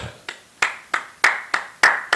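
A church congregation at a midnight worship service claps hands in unison, a steady beat of sharp, loud claps about every third of a second, with no talking.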